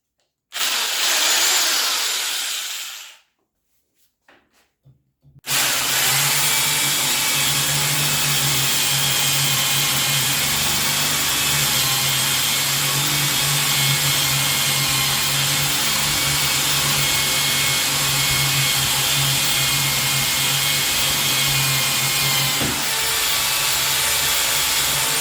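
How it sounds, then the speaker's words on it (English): A Parkside PBH 800 hammer drill in drilling mode gives a short loud whir, cuts out briefly, then drills steadily and loudly in a long, unbroken grinding drone. "Go to drilling mode."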